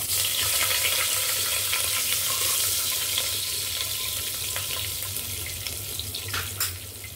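Whole spices for white biryani fry in hot oil, giving a dense, continuous close-up hiss and crackle that holds steady throughout, with a few faint clinks near the end and no talking.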